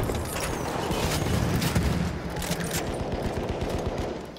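A large gun being reloaded in a military shooter, with a metallic, ratcheting mechanism rattling over a dense burst of distant gunfire, loud and continuous for a few seconds.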